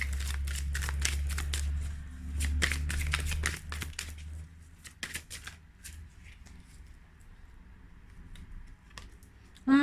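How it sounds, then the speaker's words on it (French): Tarot cards being shuffled by hand, a dense run of quick papery riffles and flicks over a low steady hum that thin out into sparser, softer card sounds near the end, with no talk. "Je vais tirer une carte."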